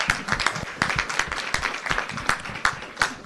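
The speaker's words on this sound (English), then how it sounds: "Let's give them all, champions, a round of applause." Applause from a modest group at a city council awards meeting in Northport, individual claps distinct and irregular, moderately loud and close, with no one speaking over it.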